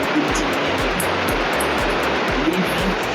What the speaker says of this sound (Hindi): आप नदी का भाव देख सकते हैं नीचे